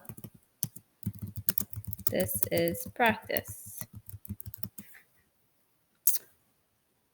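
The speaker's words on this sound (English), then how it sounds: "Let's just start typing." Rapid clicking of keys on a computer keyboard, with a quiet voice speaking briefly over the typing before it trails off into a pause and one last tap.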